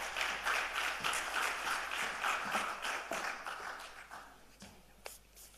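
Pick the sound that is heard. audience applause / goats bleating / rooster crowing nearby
audience applause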